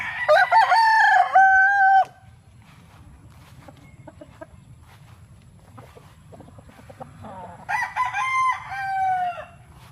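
Young gamecock stags crowing: two loud, close cock-a-doodle-doo calls, one at the start and another near the end, with quiet farmyard clucks and rustling in between.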